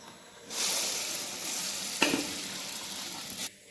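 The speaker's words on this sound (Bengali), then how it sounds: "তেল গরম হচ্ছে, আমি অল্প একটু তেল নিয়েছি। তো এবার এর মধ্যে আমি পুরটাকে দিয়ে দেবো।" A spiced lentil filling hits a little hot oil in a pan and sizzles loudly and steadily for about three seconds, with a brief crackling burst partway through.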